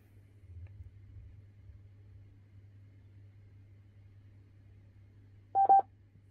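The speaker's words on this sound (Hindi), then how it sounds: "जब डिवाइस कनेक्ट हो जाएगा तो एक बीप सुनाई देगा कुछ इस तरह से।" A short double beep from an Aerons SK12BT portable Bluetooth speaker signals a device connection. It sounds once near the end after several seconds of quiet low hum.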